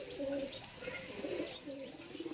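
Kamagar pigeons coo softly in a pair of short, low murmuring bursts, with a couple of brighter chirps near the end and quiet background rustle, no talking.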